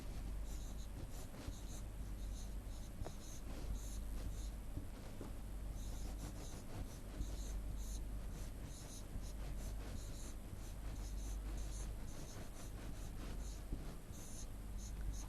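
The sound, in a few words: writing numbers during a math lesson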